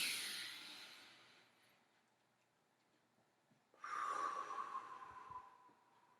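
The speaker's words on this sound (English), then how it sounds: "a deep breath in" A person draws a slow, deep breath in, the soft airy rush fading out over a couple of seconds before a second breath starts again, close and quiet with no talk.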